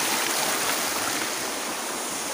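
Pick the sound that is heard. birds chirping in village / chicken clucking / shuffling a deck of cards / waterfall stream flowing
waterfall stream flowing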